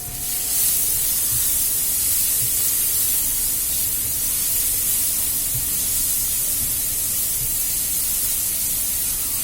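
Steady loud hiss of masala with black pepper and red chili sizzling in a hot pan, a continuous broadband frying noise with faint low knocks of stirring underneath.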